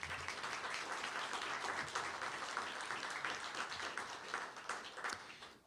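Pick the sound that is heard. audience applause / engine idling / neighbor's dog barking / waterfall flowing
audience applause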